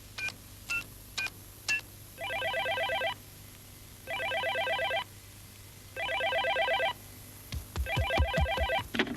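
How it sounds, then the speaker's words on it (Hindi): A cartoon telephone in a Doraemon episode gives a few quick dial beeps, then rings in four evenly spaced electronic trilling bursts, clear and close, with a low hum underneath. "लो, डेकिसुगी को फोन करो।"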